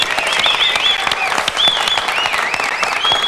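A studio audience applauds Milton Berle loudly and continuously, dense clapping filling the whole moment with a few whistles or cheers mixed in.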